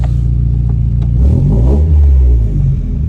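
A right-hand-drive NB Mazda Miata pulls away loud and close, its engine rumbling low then revving up in a rising surge before easing off, with no talking.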